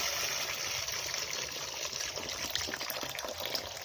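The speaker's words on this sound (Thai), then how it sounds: "เราก็มาเปิดน้ำออกนะครับ ให้เขาทำงาน ให้น้ำหมดไปจากระบบ" Water runs out of a home water pump's pressure tank system as the outlet is opened to drain it, giving a steady, soft gushing and trickling that continues throughout with no talking.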